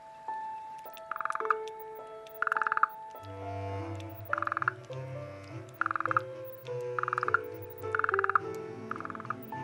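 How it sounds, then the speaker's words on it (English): A burrowing frog croaks in regular pulsed calls, about one every second or so, close and fairly clear, with a low background hum beneath. "the burrowing frog awakes from its long sleep"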